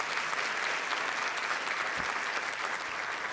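An audience gives a round of applause at a school district State of the District event, dense, steady clapping from many hands, close and sustained throughout.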